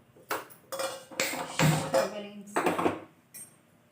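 A metal pan clatters and clanks as it is set on a kitchen stove, several sharp ringing knocks and scrapes in irregular bursts with short pauses, close and fairly loud.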